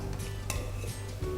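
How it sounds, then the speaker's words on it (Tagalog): Radish dropped into a pot of boiling soup gives a few soft splashes and clinks over a low, steady bubbling simmer, close and fairly quiet, with no talk. "Itambog na natin itong labanos."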